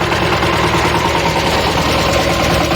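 A Shifeng SF 160 tractor engine works steadily while ploughing deep in a sandy field, a loud, continuous, rhythmic diesel chug with vibration and no pauses or voices.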